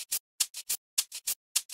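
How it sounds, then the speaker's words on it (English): A dry, crisp shaker pattern for a pop track, played without effects, gives sharp rhythmic shakes in uneven groups of two and three, close and clear with short silences between, and no voices. "But the tone of these shakers was too low,"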